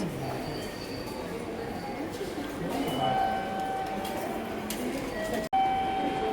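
A Tokyo tram rolls along its rails with a steady rumble and faint metallic squeals, broken by a brief sharp drop near the end.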